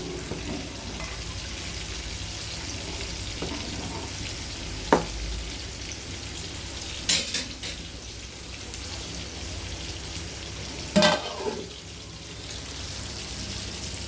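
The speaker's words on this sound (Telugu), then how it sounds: "ఒకసారి కలుపుకుందాం." Bagara rice being stirred in a cooking pot, a few sharp scraping clinks of the spoon over a steady, soft bubbling sizzle that continues throughout.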